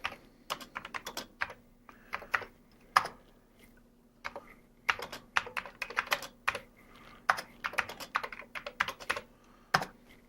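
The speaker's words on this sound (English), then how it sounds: "So we'll type in our program." Steady bursts of typing on a Commodore 128 keyboard used in C64 mode, sharp keystroke clicks in quick irregular runs with short pauses, close and clear with no talking.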